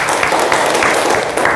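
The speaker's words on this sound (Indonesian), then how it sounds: "tepuk tangan untuk Cindy" Classroom applause for a student named Cindy after she comments on a group discussion, a loud, dense wash of clapping from many hands filling the short moment.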